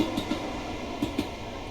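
Two trains pass each other in Train Sim World 2 on a London commuter line, a steady rolling rumble marked by several sharp metallic clangs and clicks from wheels over rail joints, heard from inside a cab.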